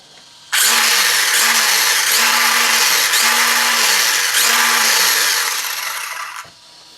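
Budget RLAARLO XTS F10 RC car's electric motor spinning the wheels up, a loud, steady high whine with a repeating rising-falling pulse, running for about six seconds before cutting off.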